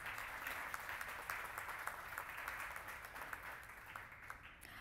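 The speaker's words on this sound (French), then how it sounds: "Je vais vous demander de l'applaudir également." Quiet audience applause for an official at a public presentation on access-to-information rights, an even patter of many hands clapping heard from a distance and fading slightly toward the end.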